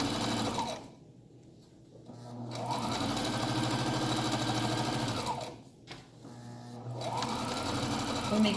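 Sewing machine stitching a straight seam on a back sack, running in steady, loud mechanical bursts separated by brief pauses, with a voice talking over it at times.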